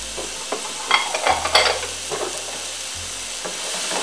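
Vegetables sauté in a skillet for a one-pan ramen noodle dish, with a steady hiss of frying under a few scraping stirs of a utensil. The sound is close and continuous, with no talk.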